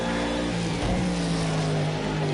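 McLaren race car engine in a video game time trial, loud and steady throughout with a sustained high drone that dips briefly at a gear change before holding again, heard alone.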